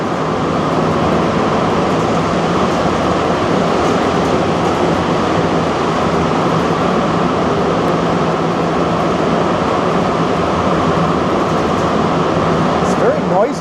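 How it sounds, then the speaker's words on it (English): Montreal Metro train heard from inside the car while it runs fast, a loud continuous roar and rumble with steady mechanical whine throughout, ending with a brief higher squeal. "It's very noisy though. Seems a lot noisier than the Toronto subway, even inside the train."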